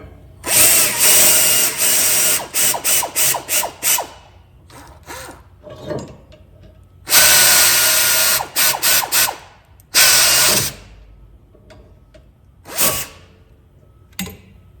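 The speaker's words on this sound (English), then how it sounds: "Let's get our air ratchet." Pneumatic air ratchet loosening rear brake caliper bolts on a 2019 Honda Accord, loud close bursts of rapid whirring and clicking in repeated runs, with quieter gaps between.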